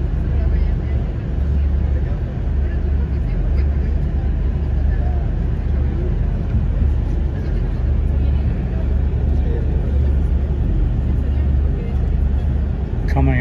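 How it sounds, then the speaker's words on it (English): A Plus Bus pulling out of Guadalajara Central bus depot onto the street, heard from inside: a loud, continuous engine rumble that stays steady from start to finish. "Coming out of the bus depot onto the street."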